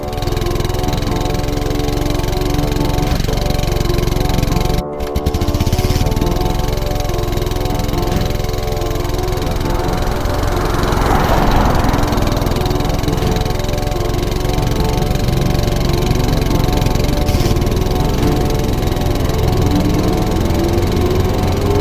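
Continuous engine drone of a motorcycle ride on a busy highway at night, steady and loud, with a brief dropout partway through and wind-like rumble underneath.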